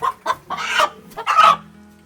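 Two chickens that have just been caught cluck loudly and close by in a quick burst of four or five agitated calls, with no voices over them.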